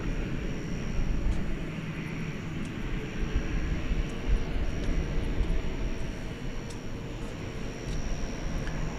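A Cathay Pacific airliner rumbles steadily at DFW airport at night, a continuous broadband jet roar holding close and loud for the whole stretch with no voices.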